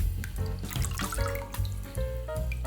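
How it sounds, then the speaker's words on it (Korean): Dried shredded squid is rinsed by hand in plenty of water, giving close splashing, sloshing and dripping sounds in quick irregular bursts. "진미채에다가 물을 좀 충분히 넣어서 한번 슬쩍 씻어 줄게요"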